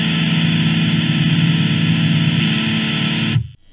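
Heavily distorted electric guitar through an AmpliTube X-Drive overdrive effect, a loud sustained chord ringing steadily for over three seconds before cutting off abruptly, with no talking.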